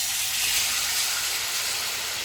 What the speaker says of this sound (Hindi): घी गर्म हो गया, इसमें चिकन डाल देंगे।